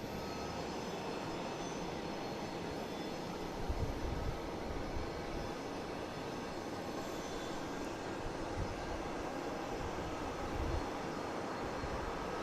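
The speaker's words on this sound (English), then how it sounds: "here's Delta heading to Salt Lake City in A321 Neo" Delta Airbus A321neo jet at Boston Logan airport, a steady broad engine roar sustained throughout with slight swells, loud and continuous with no talk.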